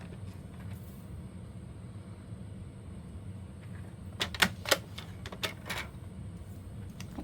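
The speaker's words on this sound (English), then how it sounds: "Bring my paper trimmer back in." A paper trimmer cuts through paper with a few sharp, close clicks and scraping strokes clustered near the end, over a steady low background hum.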